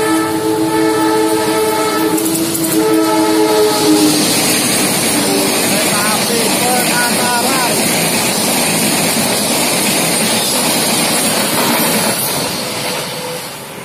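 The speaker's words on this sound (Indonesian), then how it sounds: "Kereta apinya udah kelihatan ini." A Penataran passenger train sounds a long, loud horn near a railway level crossing, then rumbles past close by with clattering wheels on the rails and a continuous roar that fades slightly at the end.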